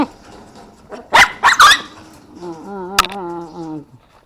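A couple of sharp dog barks ring out close by, followed by a drawn-out whining yelp that wavers in pitch and fades.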